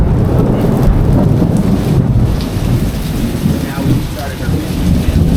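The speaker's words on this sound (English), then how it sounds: "We woke up to crashing thunder and lightning that rolled over us for hours." A heavy storm pours down on the Florida Keys, with dense rain hammering surfaces and rolling thunder rumbling continuously, loud and close throughout.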